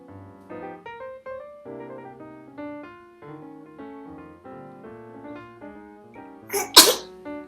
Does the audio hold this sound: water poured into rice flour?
no